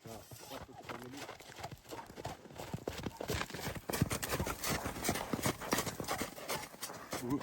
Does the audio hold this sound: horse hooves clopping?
yes